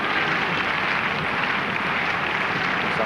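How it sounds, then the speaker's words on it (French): A rugby stadium crowd in Montferrand applauds its kicker during a 2004 European Cup match against Cardiff, a steady, wide roar of clapping and crowd noise that holds evenly throughout. "on applaudit, on apprécie"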